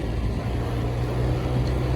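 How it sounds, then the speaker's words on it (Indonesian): Motorbike with an upgraded CVT transmission on a test drive after repair, a steady engine drone with a low, even hum and wind noise, no talking. "jadi sebelum kita kasih motor ini ke pemiliknya, maka kita lakukan test drive terlebih dahulu"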